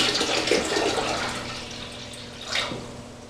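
Water poured into a homebrewing pot, about 2.5 gallons of purified bottled water for a honey porter extract batch, a soft steady splashing rush that swells again near the end.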